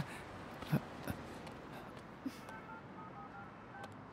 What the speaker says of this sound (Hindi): मैनेजर को फोन करो